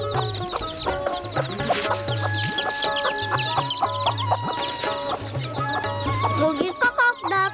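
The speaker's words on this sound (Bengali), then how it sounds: "আমি এসে মুরগিগুলো তাড়িয়ে দিতেই মুরগিগুলো কাকাক করে ডাকে।" Chickens in a farmyard that have been chased off their grain cluck and squawk in quick, repeated bursts over steady background music.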